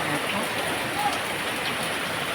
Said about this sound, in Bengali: কাঁঠাল গাছে বৃষ্টি পড়ছে